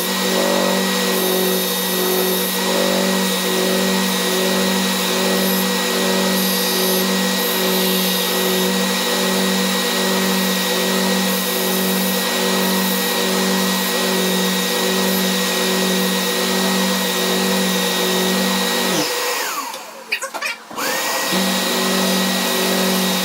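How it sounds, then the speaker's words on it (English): A power sander works over uneven wooden stairs, a loud steady whine with constant motor tones. It cuts out briefly near the end and then starts up again. "So we're just going to sand the stairs back."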